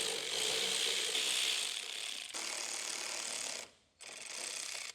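Ratchet wrench clicking rapidly and steadily as it backs bolts out of an A/C bash plate panel on a 2000–2021 Mitsubishi Pajero NM-NX, loud and close, with a brief pause near the end before the ratcheting resumes.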